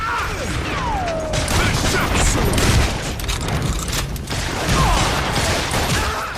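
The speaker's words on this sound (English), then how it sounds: "Never hurts to start off a gunfight with a little bit of dynamite" A dynamite stick explodes at the start of a gunfight in the Western game Gunslinger, heavy rumbling booms and crashing debris amid scattered gunfire and clanking, loud and close, swelling twice across the stretch.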